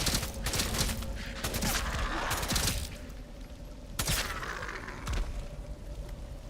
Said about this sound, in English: What is shooting me with poison? Oh, it's a freaking evil plant.